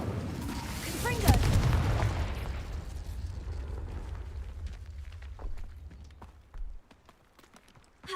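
A Confringo spell explodes in a video game: one loud blast lands early, and a deep rumbling tail fades slowly over several seconds.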